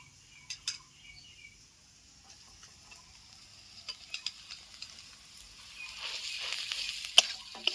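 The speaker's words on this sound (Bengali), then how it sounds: "এই আলুটা দিয়ে আমি ভালো করে কিছুক্ষণ নাড়াচাড়া করে নেবো আলুর সঙ্গে এই পেঁয়াজ রসুন আদাটা ভালো করে মিশিয়ে নেবো" Mashed potato stirred into fried onion, garlic and ginger in a pan for a cheese sandwich filling: quiet scraping and clinking of a spoon, with a soft sizzle that grows louder toward the end.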